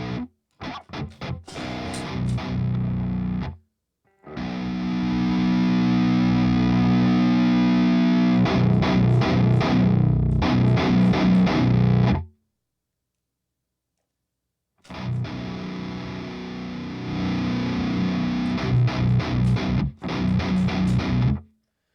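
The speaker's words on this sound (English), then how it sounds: "Back the master off, and you can actually get your tones to thin out a little bit." A distorted electric guitar runs through a Neural DSP amp plugin with the master volume backed off, playing chugging palm-muted riffs and sustained chords in loud bursts separated by short silences.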